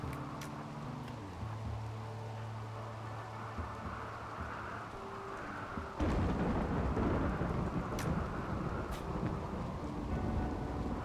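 Rain and rolling thunder in the RimWorld video game, a steady rain hiss with low rumbles that swell louder midway, plus a couple of sharp cracks near the end.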